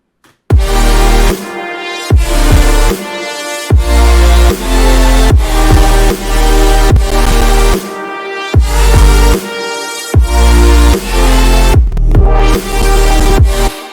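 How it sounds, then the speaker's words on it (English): Loud, dense electronic drop with pounding bass kicks, bright layered synths and rhythmic gaps, playing continuously without voices. "with all the layers put together, it sounds like this"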